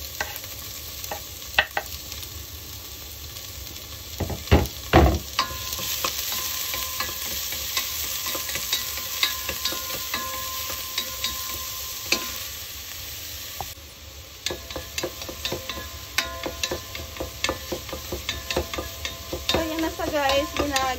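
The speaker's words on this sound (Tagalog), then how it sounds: "Guys, ginagisa-gisa ko sa ngayon yung ingredients natin." Sliced onions and dinuguan ingredients sauté in a pan with steady sizzling and frying, punctuated by repeated scraping and clacking as a spatula stirs them, close and fairly loud without speech.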